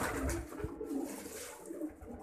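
A black pigeon with a red ring coos softly, low throaty calls repeating under faint background noise, quiet and fairly close, no talking.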